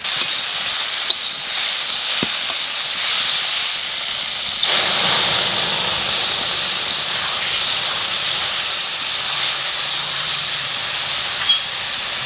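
A paste of cumin, dried and green chillies and mustard hits hot oil and sizzles with a strong, steady hiss that starts sharply and keeps going loud and close, with no voices.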